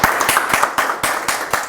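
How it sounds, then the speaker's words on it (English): An audience applauds at a business event in Mumbai with a steady, loud wash of clapping and rhythmic pulses, close and continuous throughout. "a big round of applause"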